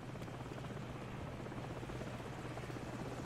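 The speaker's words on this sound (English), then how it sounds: "Hold on, the helicopter's back." Steady rotor thrum of a helicopter hovering at a distance in Call of Duty 4: Modern Warfare, a constant low drone with no voices.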